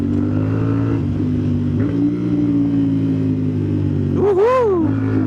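A motorcycle engine, a 450 SR, revs during a rev-matched downshift on an expressway run, a loud, close steady drone that dips and then sharply blips upward near the end before settling again.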